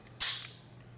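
Bolt of a German K98 Mauser rifle being worked, heard as one sharp, close metallic clack followed by a brief fading slide, with no talk.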